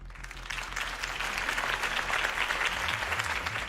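A crowd applauds in the Batman Telltale game, dense clapping that swells steadily and stays loud for several seconds at a campaign event, heard alone without talk.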